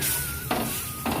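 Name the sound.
pointed gourd (potol) frying in a pan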